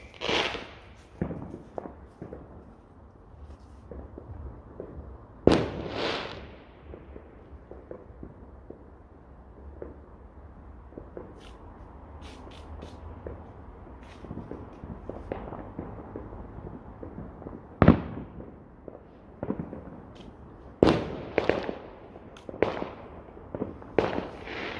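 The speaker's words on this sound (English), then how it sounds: "Next up are the little 7-shot barrages." Small 7-shot firework barrages at a Bonfire Night display: a series of sharp cracking bangs and whooshing bursts, irregular and fairly close, with quieter crackles and pauses between the louder shots.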